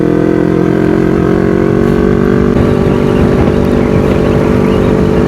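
Motorcycle engine droning steadily while riding on the road to a group Sunday-morning meetup, with wind rumble and a constant loud hum throughout.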